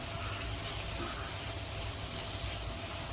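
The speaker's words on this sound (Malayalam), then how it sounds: "മൂടി വെച്ച് നമുക്കിതൊന്ന് അവിടെ ഇരുന്നുകൊണ്ട് ഫ്രൈ ആവട്ടെ" Mutton masala with tomatoes frying in a covered pan, giving a steady, even sizzle that stays close and constant throughout, with no voices or other sounds breaking in.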